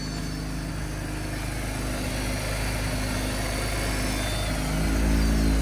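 A long-dormant JDM car engine running in a garage, a loud, steady, close idle with a rough, even pulse that swells slightly louder at the end.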